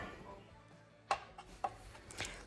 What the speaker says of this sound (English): So right here, I'm just chopping some cilantro, making it nice and fine and thin for our salsa or picadillo.